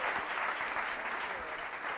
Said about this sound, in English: Let's give Gina a huge round of applause.